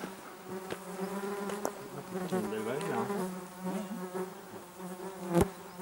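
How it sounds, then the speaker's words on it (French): Flies buzzing around outdoors in a valley, several insects droning and whining close to the microphone with rising and falling pitch, under occasional brief speech and a few sharp clicks. "Faudra enlever les mouches au montage"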